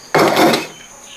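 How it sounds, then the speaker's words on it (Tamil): A wok set down on a stove before oil goes in for devilled chicken wings, giving a single sharp clunk with a brief ringing tail, then quiet. "டெவல் பண்ணுறதுக்கு தாச்சை வச்சு எண்ணெய் ஊற்றிக்கிறோம்"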